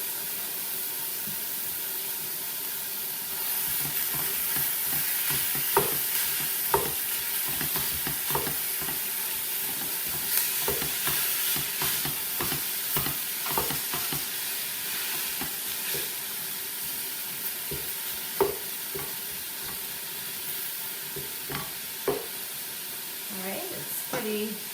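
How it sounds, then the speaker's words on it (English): Ground beef sears in a pan for cabbage roll soup, a continuous close sizzle with repeated spatula scrapes and taps as the meat is broken up, and a voice talking at times over it. "I have my ground beef, and I'm just going to let it sear in the pan. I'm going to break it up"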